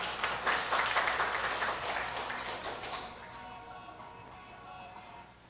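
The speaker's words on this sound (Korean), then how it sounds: "박수 한번 치셔도 돼요." A church congregation applauding during a sermon, a burst of many hands clapping that swells quickly, then thins and fades away over several seconds.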